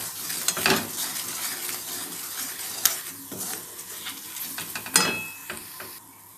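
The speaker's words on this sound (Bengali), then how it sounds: "দেখো মশলাটা ফ্রাই হয়ে গেছে" Spice masala fries in a pan while a spoon stirs it, giving a continuous close sizzle broken by several sharp scrapes and clinks against the pan, with no speech.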